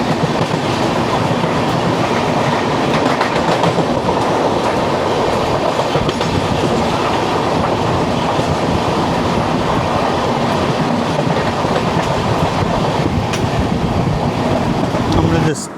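The 12685 Mangaluru Super Fast running from Chennai Central toward Shoranur, heard from inside an AC 3-tier coach: a loud, constant rumble with rhythmic clickety-clack of the wheels over the rails.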